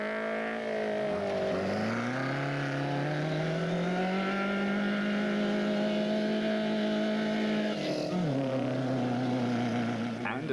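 Bozel off-road racing truggy engine straining and revving in thick mud, a loud, sustained, wavering drone that rises and dips, with a sharp pitch change near the end, under a commentator's voice.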